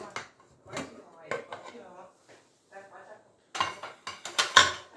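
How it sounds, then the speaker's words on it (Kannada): A pressure cooker lid is opened after cooking Kabuli chana masala, giving sharp metallic clanks and rattles near the end, preceded by someone talking over light kitchen clatter. "ಈಗ ನಾನು ಕುಕ್ಕರ್ ಓಪನ್ ಮಾಡ್ತಿದ್ದೀನಿ"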